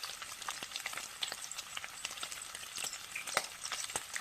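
Bacon sizzles and pops in a hot pan, a steady close crackling hiss with frequent sharp spits of grease, heard on its own.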